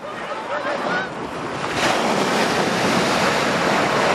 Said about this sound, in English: Ocean tides play tricks with visitors, quickly and quietly swallowing the stone path that connects the island with the mainland.